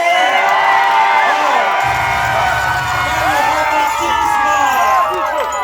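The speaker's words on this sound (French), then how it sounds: "On applaudit s'il vous plaît." Wedding guests at a customary wedding in Amiens cheer, whoop and shout loudly, with excited voices and bright high calls filling the space. The crowd stays busy throughout, and the applause is not clearly separable from the cheering.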